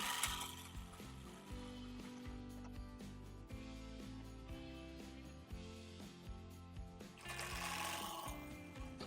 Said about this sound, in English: And while sewing, be careful not to sew through the one that is inside.